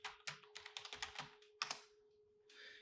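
Someone types a short command on a computer keyboard, with a quick run of crisp, close key clicks followed by a pause and one last soft keystroke, quiet overall with a faint steady hum underneath.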